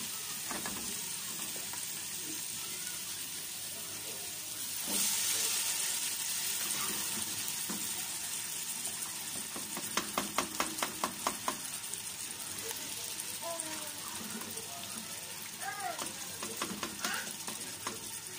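Beans tipped into hot oil with spices sizzle steadily while a spoon stirs and scrapes the pot for Haitian mayi kole, with a clattering run of stirring clicks midway.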